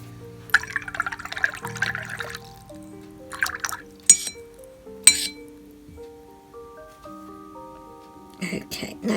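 A paintbrush gets a quick rinse in a water jar during a gouache painting session, giving soft sloshing and several glassy clinks against the rim, heard over steady background music.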